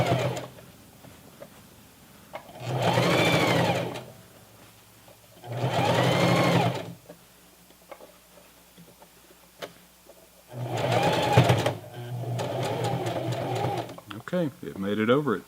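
A sewing machine with a denim needle stitches across a Levi's 550 jeans leg hem in three separate bursts, pausing between them. Quiet talk fills the gaps.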